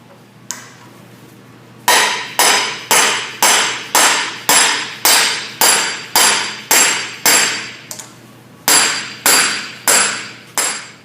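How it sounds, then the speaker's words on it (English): A hammer strikes metal over and over in a steady rhythm, tapping out the front wheel hub of a 2003 Honda Civic, loud and close, with a short pause partway before the blows resume. "just use a hammer and tap it out"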